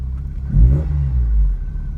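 A Mk2 Vauxhall Cavalier engine with Bosch fuel injection and a running fault cranks briefly, struggling to start, then catches with a low rumble and a short over-rev, heard close up.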